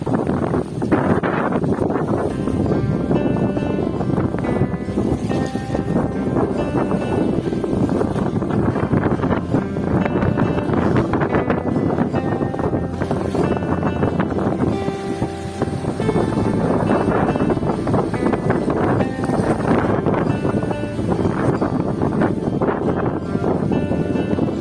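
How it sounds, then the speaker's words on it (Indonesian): Strong westerly storm wind roars at sea around a bagan fishing platform in bad weather with big waves, a dense, unbroken buffeting rush that stays loud throughout with no voices. "Hari ini badai, angin barat, gelombang besar,"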